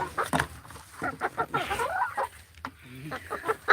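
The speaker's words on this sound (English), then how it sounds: "The chickens, they're always hungry." Hungry backyard chickens cluck and squawk in a busy, uneven chorus close by, mixed with brief honking calls and some faint voices.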